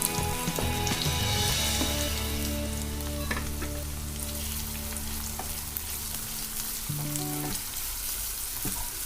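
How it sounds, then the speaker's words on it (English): Chopped onions fry in a hot pan, giving a loud, constant crackling sizzle up close, with occasional stirring clinks and no talking. "Now you will be adding the onions."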